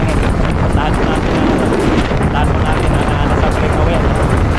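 Strong wind roars steadily and loudly across the microphone during a bike race, a constant buffeting rumble with a voice talking beneath it.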